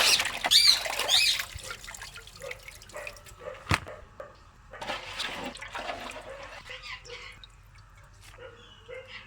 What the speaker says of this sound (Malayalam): ഇതെല്ലാം കൂടെ നമുക്കൊന്ന് കഴുകിയിട്ട് വരാം